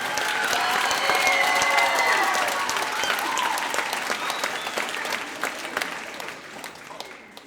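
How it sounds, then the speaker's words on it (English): An audience applauds school choir soloists at a middle school spring music program, with dense steady clapping that gradually thins out toward the end. "Give them a round of applause."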